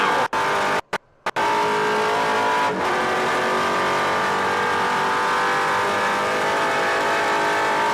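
A race car at full throttle on a road course near the Snake section, engine roaring loud and steady around 100 mph with a brief dropout early on, then a sustained high-pitched drone.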